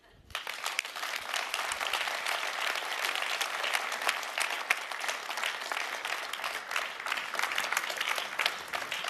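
An audience at the Ignite Summit 2019 breaks into loud, sustained applause after a speech, with dense clapping that holds steady for several seconds.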